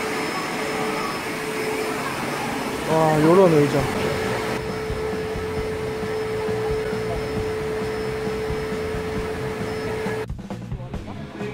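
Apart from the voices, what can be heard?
vacuum cleaner running in a resort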